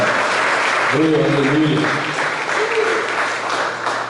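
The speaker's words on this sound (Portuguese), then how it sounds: "E dá um aplauso ao nome do Senhor Jesus" Congregation applause fills a church during a Portuguese-language sermon, a steady wash of many hands clapping throughout while a voice calls out over it.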